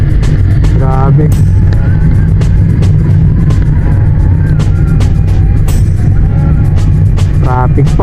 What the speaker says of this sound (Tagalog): Traffic po.